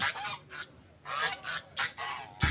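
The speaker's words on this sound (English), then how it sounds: "It's almost like the geese were warning Angela about what was to come afterwards" Geese honk in a series of loud, close, harsh bursts, about six calls in quick, uneven succession with short gaps between them, and no voices.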